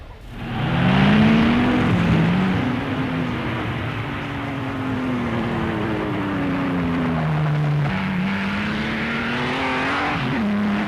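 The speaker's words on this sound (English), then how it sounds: "Sound of those cars was something that the British public had never heard before. It was like a rocket ship." Silver Arrows racing cars roar past in a loud, continuous engine howl, pitch rising and falling as they sweep by, with a second surge near the end.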